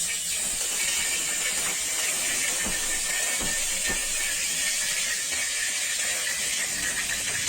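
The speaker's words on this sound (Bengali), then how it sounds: "হাত ভেজা ছিল, যার কারণে কড়াইয়ের তেলের মধ্যে হালকা পানি পড়েছে।" A few water drops spatter into hot oil in a heated wok, producing a soft steady hiss dotted with scattered small crackling pops, fairly quiet and with no voices.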